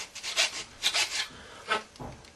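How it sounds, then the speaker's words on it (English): A rasp files a slot on a handmade wooden koncovka flute, several short scraping strokes in an uneven rhythm, close and moderately loud, with no talk. "We take our rasp, and we want to just create a little"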